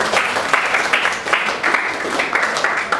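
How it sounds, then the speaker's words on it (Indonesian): Classroom applause for a student who has just answered in a mathematics lesson, a small group clapping steadily and fairly close for about three seconds with no talk over it. "Oke, tepuk tangan lagi sekali buat Jason."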